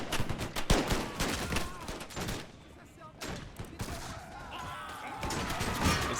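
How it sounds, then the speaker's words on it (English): A ragged volley of pistol shots cracks out in the Empire Total War 2 battle, several sharp bursts in quick succession, then a lull before more scattered firing under background battlefield noise. "Fire your pistols."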